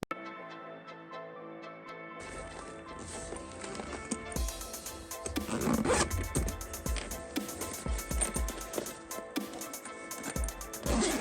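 A zipper on a black LED sling bag is drawn along its track, a close series of scratchy rasping runs over a background of music.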